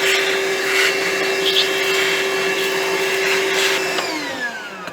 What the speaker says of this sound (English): Let me vacuum some of that out because that is pretty nasty.